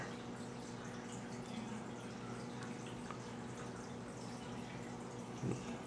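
Water running steadily through the overflow of a 10-gallon nano reef aquarium, a faint continuous trickle with a low hum and one soft splash near the end.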